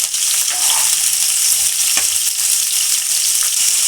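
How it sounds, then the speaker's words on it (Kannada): Bitter gourd pieces frying in oil give a loud, dense, continuous sizzle close up, with faint stirring scrapes in the pan and no voices. "ಇವಾಗ ಹಾಗಲಕಾಯಿ ಹಾಕ್ಕೊತಾ ಇದ್ದೀನಿ. ಚೆನ್ನಾಗಿ ಫ್ರೈ ಮಾಡ್ಕೊಳ್ಳಿ."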